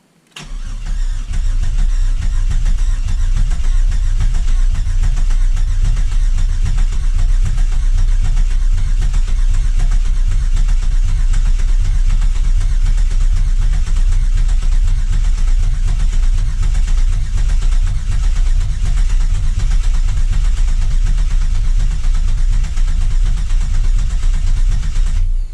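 A 3.8L V6 in a fourth-generation Camaro, freshly installed, starts up and settles into a steady, loud, close idle that runs alone for about 25 seconds with an even low rumble and a slight pulsing.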